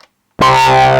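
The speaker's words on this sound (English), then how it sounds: "There's also a distortion effect," After a brief silence, a Yamaha Reface CS synthesizer bursts in with a loud, sustained distorted tone, a buzzing, harmonically rich digital distortion holding steady to the end.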